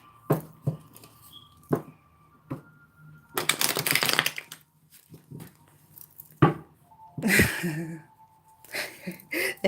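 Tarot cards being shuffled and tidied by hand, with bursts of riffling and soft taps and clacks between them, close and fairly quiet, with no talking.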